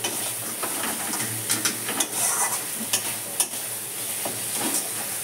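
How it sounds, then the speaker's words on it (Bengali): Prawn malai curry masala sautés in a pan with steady sizzling and frequent scraping stir strokes, close and moderately loud. "খুব ভালো মতো কষানো হয়ে গেছে।"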